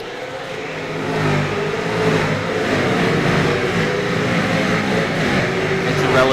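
Race cars in a Fincar racing game rev and accelerate together at the race start, producing a loud, sustained, rising engine roar.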